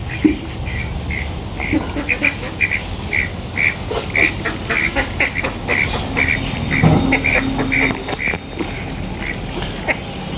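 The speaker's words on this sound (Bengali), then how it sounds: "হাঁসও এদিকে খেলা করতেছে সকালবেলা" Ducks quack repeatedly in quick, uneven bursts nearby, over a steady outdoor background hum.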